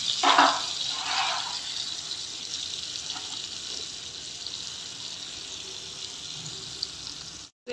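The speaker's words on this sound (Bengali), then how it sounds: "এখন ডিমগুলো ভেজে নিব" Eggs frying in a pan give a steady, close hiss with a few louder crackling bursts in the first two seconds, after which the sizzle settles and continues evenly.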